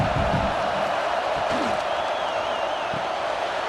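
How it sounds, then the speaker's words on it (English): A stadium crowd roars steadily in a college football video game, LSU Tigers at Oklahoma, a dense sustained cheer filling the clip with a brief whistle-like tone rising above it. "The roar of the crowd trying to fuel this defense to keep them pinned in their own end."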